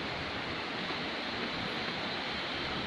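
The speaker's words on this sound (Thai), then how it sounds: "น้ำตกพาเจริญนี่เป็นน้ำตกที่มีชื่อเสียงนะครับใน จังหวัดตากนะผมในอำเภอแม่สอดนะ" The famous Pha Charoen waterfall in Mae Sot, Tak province, Thailand, sounds as a steady, unbroken rush of falling water that fills the whole clip at moderate volume, with no speech over it.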